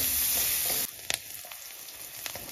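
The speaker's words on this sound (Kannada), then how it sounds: "ಸೊ ಆನಿಯನ್ ಇಲ್ಲಿ ಚೆನ್ನಾಗಿ ಫ್ರೈ ಆಗಿದೆ." Onions fry in hot oil for an Afghan chicken curry, a loud, close, steady sizzle that cuts off abruptly after under a second, followed by quiet scattered stirring clicks.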